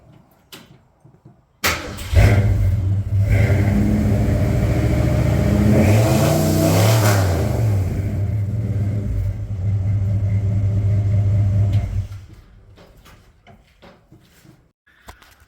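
A 1965 Ford Fairlane 500 Sport Coupe's 289 V8 roars through its aftermarket exhaust, revving up and back down, loud and steady, for about ten seconds before it cuts off.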